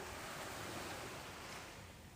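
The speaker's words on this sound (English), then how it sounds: "Silver waves rolling slowly toward the shore." Ocean surf washing steadily toward the shore under a moonlit night sky, a continuous broad roar with some wind and no voices.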